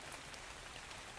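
Steady rain patters down in a dense, even hiss of drops on surfaces, a brief continuous wash of sound with no voices.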